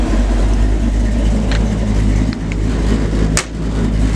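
A 1953 Chevrolet 3100 pickup with a 290-horsepower GM crate V8 and Flowmaster exhaust runs at a steady, loud idle, its deep rumble constant with a couple of brief clicks and dips.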